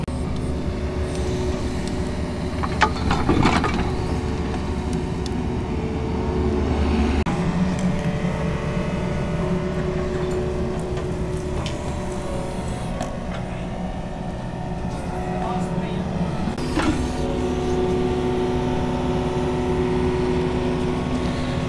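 Heavy digging machinery excavating a hole for a septic tank drones steadily at close range, its engine rumbling and shifting load, with scattered clanks and knocks from the bucket.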